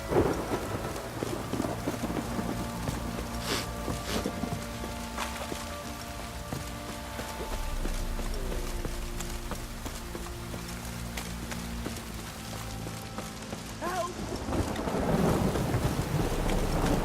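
Heavy downpour with rolling thunder in the video game The Witcher 3: Wild Hunt, a steady loud rain roar with repeated deep thunder rumbles and a few footsteps, with no voices.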